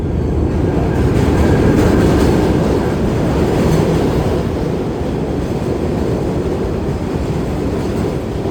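New York subway D train running on the F line toward Coney Island, a steady loud rumble of wheels and cars from inside, with faint rhythmic clatter throughout and no talk.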